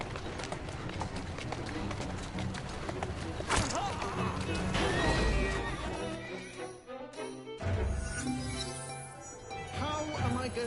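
A horse's hooves clip-clop along with a brief neigh in the Assassin's Creed Syndicate video game, set under music and street sounds while someone speaks.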